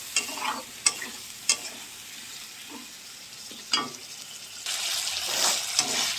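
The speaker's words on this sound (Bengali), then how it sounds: "এবারে মশলাটাকে ভালো করে কষাবো" Spice paste of ginger, salt, turmeric, tomato and chili fries in a pan for an egg curry, with a steady sizzle broken by sharp scraping stirs, a few clacks of the spoon, and a louder crackling burst toward the end.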